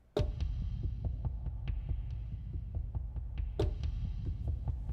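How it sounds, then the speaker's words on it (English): A wah tap effect pedal runs with its feedback cranked up and slowed down, producing a steady low throbbing hum with a slow pulsing rhythm and a sharp attack at the start and again midway. "I have a wah tap that I like to crank up the feedback and slow it down."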